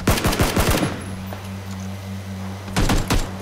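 Bursts of automatic gunfire in PUBG Battlegrounds, a squad battle: a rapid string of loud, close shots, a pause with a steady low hum, then another quick burst.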